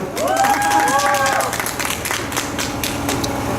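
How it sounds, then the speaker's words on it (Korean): Applause from an audience at a school talk, a dense, steady round of clapping with murmuring voices mixed in, loud and sustained across the clip. "정말 놀라운 성과 아닙니까? 박수 한번 주시죠"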